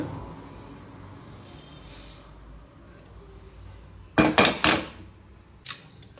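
Roasted coriander seeds for vangibath get scraped from a pan onto a plate, a quick cluster of four sharp metallic scrapes and clinks followed by one softer clink, after a quiet stretch of faint hiss.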